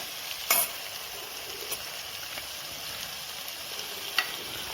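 Chicken pieces tossed into a pan of frying onions for a Kerala-style naadan chicken curry, with a steady low sizzle and a few sharp clinks and scrapes of a spoon stirring, close and with no talking.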